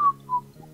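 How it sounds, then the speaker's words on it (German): A person whistles three short notes, the first two a little louder and the last softer, over a faint steady background hum with no talking. "Hör auf zu pfeifen!"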